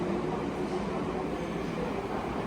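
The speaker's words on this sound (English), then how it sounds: "Yeah, very nice train indeed." Steady rumbling roar of a train riding along the tracks in Japan, heard from inside as a continuous close hum and rattle with no distinct beats.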